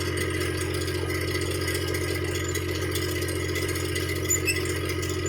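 Diesel engine on a homestead running steadily at idle, a constant close rumble with a fine mechanical rattle layered over it and no pauses.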